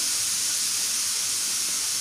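Continuous loud hissing sizzle of spices frying in hot oil for a tadka over low heat, steady and close throughout with no pauses or talking.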